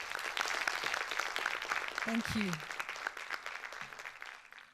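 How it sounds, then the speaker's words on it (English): Benefit-concert audience clapping hard in a hall, a dense steady wash of applause that holds loud throughout and tapers slightly at the end, with a brief spoken thank-you over it. "Could I please request you to make that a lot louder? With a big round of applause."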